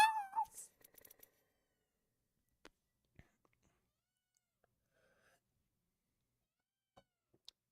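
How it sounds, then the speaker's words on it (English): A cat meows once, fairly close and fairly loud, at the very start during an Apex Legends collegiate scrim session. Only a few faint clicks and taps follow in near-silence. "Bro, feed your cat."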